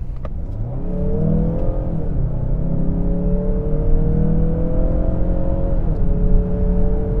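A 2018/2019 Mazda CX-9 in sport mode accelerates hard, its engine note rising steadily in pitch through the gears with a brief dip at a shift, loud and continuous from the cabin, with no talking.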